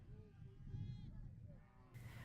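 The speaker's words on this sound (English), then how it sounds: "The bleating of the sheep and sounds of other livestock suddenly fills the air" Sheep bleat with other livestock near Igombe crater in Meru County, Kenya, several wavering calls rising over a busy low rumble of farm animals and a steady outdoor background.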